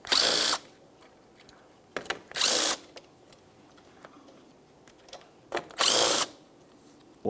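A power tool spinning off grille mounting nuts on a 2006-2012 Ford Fusion, three short loud whirring bursts separated by pauses filled with faint clicks and handling noise.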